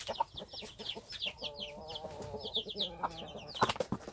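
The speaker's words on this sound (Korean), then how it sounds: "엄마 닭두 마리가 지금 무엇 때문에 서로 찍고서 싸움을 했는지 모르겠습니다" Two mother hens, a Korean Araucana-type breed, squabble and peck at each other, giving out a run of agitated clucks and squawks with some sharper cries near the end, close by and without talk.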